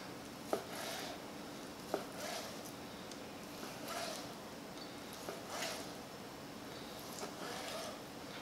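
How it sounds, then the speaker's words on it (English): A knife cuts food into small pieces on a board, with soft, faint, unhurried taps and a couple of sharper knocks in a quiet kitchen. "We're gonna slice it in half, and then we're gonna just cut it into small"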